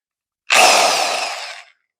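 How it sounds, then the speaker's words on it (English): Handheld drill spins a flexible silicon carbide hone inside a 12 gauge shotgun barrel bore with honing fluid: a single loud, close, high whirring burst of just over a second that fades as it stops. "I'm going to use my drill and this 12 gauge shotgun barrel bore."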